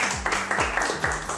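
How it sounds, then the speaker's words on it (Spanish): A few separate claps sound close and sharp with uneven spacing, like a small group or a single person clapping briefly, and a faint murmur sits underneath. "aplauso"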